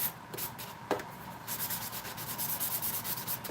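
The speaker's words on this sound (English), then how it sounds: "now I am sanding it down with a 220 block" Steady rubbing strokes of a 220-grit sanding block over shellac-coated wood in a workshop, a rhythmic back-and-forth scratch that grows busier in the second half, close and fairly quiet.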